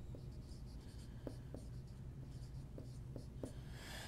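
Marker or chalk writing on a board during a math lesson, with short scratchy strokes and taps in irregular bursts, close and steady over a faint background hum.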